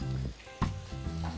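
Peppers, onions and garlic cooking with chopped bacon in a pan, a continuous close sizzle with a sharp scrape of stirring partway through.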